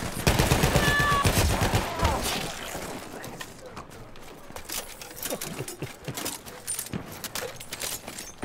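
Machine gun fire in the First World War shooter Battlefield 1, with rapid bursts loudest at the start and then trailing off into scattered, quieter shots and game noise.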